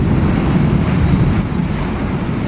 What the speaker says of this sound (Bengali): দেখো বন্ধুরা প্রচণ্ড পরিমাণে বৃষ্টি শুরু হয়ে গেছে